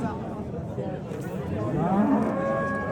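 Cattle low in a livestock market, a cow's drawn-out moo rising near the end over murmuring background chatter.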